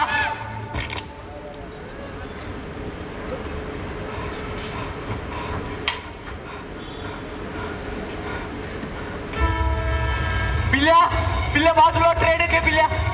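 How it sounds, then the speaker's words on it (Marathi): A recorded train sound effect plays during a college stage drama, a steady rumble that swells into a louder approach with squealing, horn-like tones near the end, while an actor speaks over it. "पिल्या बाजूला ट्रेन येते."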